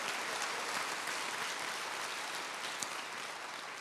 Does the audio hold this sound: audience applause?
yes